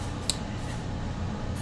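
Scissors cut the edge off a paper card with a single short, crisp snip up close, set against a quiet room hum.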